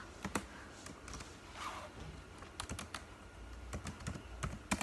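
Fingers type a command on a computer keyboard, producing quick, irregular clusters of crisp keystroke clicks over a soft background hiss.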